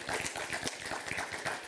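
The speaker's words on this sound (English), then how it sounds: "Can we have one last round of applause for our winners" Steady round of applause from an audience at the Women Africa Cup of Nations 2026 final tournament draw ceremony, dense continuous clapping filling the hall with faint voices mixed in.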